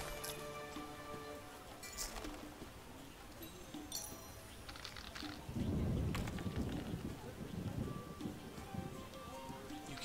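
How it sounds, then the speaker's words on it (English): Thunderstorm ambience in The Witcher game: steady rain and a low, rolling rumble of thunder swelling midway, heard faintly in the background beneath game dialogue, tinkling sounds and occasional voices. "You can hear the storm in the background."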